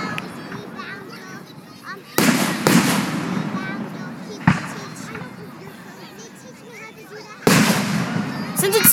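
Outdoor fireworks burst near the listener in sudden loud bangs, a few seconds apart. Crackling follows the bangs, and voices and children chatter under the show.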